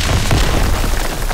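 Rocket launcher from a Call of Duty WW2 weapon pack fired in Garry's Mod, a loud, dense boom with a rumbling blast that fills the whole short moment.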